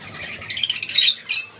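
A pair of blue masked and blue Fischer's lovebirds in a breeding setup chirp close by: a quick run of sharp, rapid tweets followed by one more brief, bright call.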